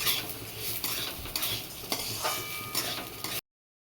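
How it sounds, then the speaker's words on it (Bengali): Mung dal being stirred with ginger paste in a pan, a steady scraping and stirring with light clinks of a utensil against the pan, close and moderately loud, ending in a brief silence. "আমি মুগ ডালের ভেতরে একটু আদা বাটা দিয়ে দিলাম দিয়ে ভালো করে নেড়ে চেড়ে নেবো"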